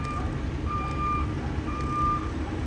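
Reversing trucks on a quiet new road give repeated electronic backup beeps in a steady on-off pattern over a low engine rumble.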